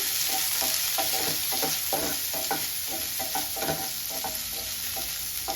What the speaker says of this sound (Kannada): ಜಸ್ಟ್ ಒಂದು 2 ಮಿನಿಟ್ಸ್ ಫ್ರೈ ಆಗಲಿ